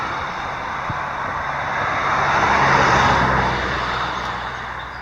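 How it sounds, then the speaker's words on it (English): Passing road traffic heard from a trail edge beside a field on a Connecticut hike, a steady broad rumble that swells toward the middle as a vehicle goes by and then eases off, with no talking. "Excuse the road noise."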